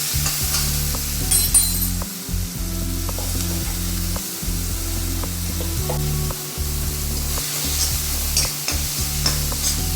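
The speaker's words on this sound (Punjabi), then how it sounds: "ਪਿਆਜ਼ ਨੂੰ ਚੰਗੀ ਤਰ੍ਹਾਂ ਭੁੰਨ ਲਵਾਂਗੇ" Chopped onions with cumin seeds frying in hot oil for a pumpkin sabzi, a continuous sizzle with occasional stirring scrapes and a low steady hum underneath, close and fairly loud.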